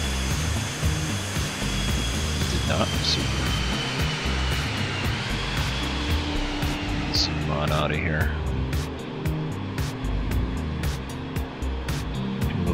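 A Boeing 737-200 in X-Plane 11 heard from the outside view, its jet engines giving a steady, loud, continuous roar with a whining tone above, while someone talks briefly over it.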